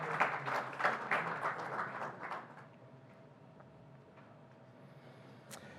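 An audience at a panel on seawater desalination applauds a panelist being called up, a moderate burst of clapping that fades to scattered claps and room noise after a couple of seconds.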